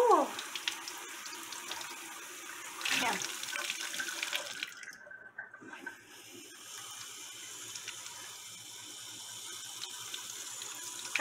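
Water runs from a sink tap at home, where a pet kiwi bird plays in the basin, a steady hiss with a faint splashing rush that shifts briefly midway.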